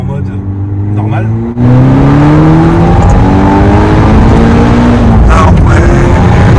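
A VW Golf 6R with valved exhaust revs loud and close, its engine note climbing in long sweeping rises, briefly dipping before surging again and holding a sustained roar; a voice talks faintly underneath.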